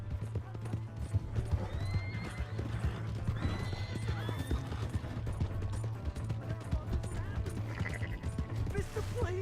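Hooves clip-clop in a fast gallop while a horse neighs and whinnies repeatedly in the Red Dead Redemption 2 video game, with mechanical rattles mixed in and voices talking over the action.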